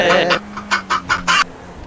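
Chicken clucking in a Grand Theft Auto real-life roleplay game, a run of short, close clucks after a brief voiced sound at the start, with a low steady hum underneath.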